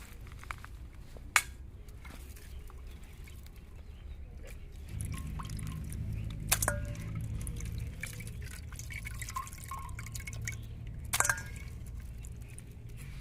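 Cut duck meat is washed in water, with faint dripping, splashing and squishing handling sounds and a low rumble under it, quiet and close.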